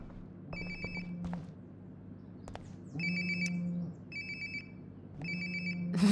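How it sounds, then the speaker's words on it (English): A phone in Life is Strange: Before the Storm rings in three repeated bursts of bright electronic trilling, each about a second long, separated by quieter pauses with faint room noise. "Sounds like my phone is definitely nearby."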